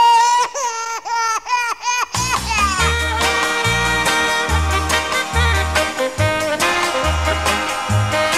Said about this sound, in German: weil immer dann das Baby in der Wiege schreit.